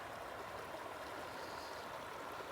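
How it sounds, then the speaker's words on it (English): Meltwater runs steadily down a roadside ditch on a rainy day, a constant faint rushing and gurgling with no voices. "Lots of water running down through here."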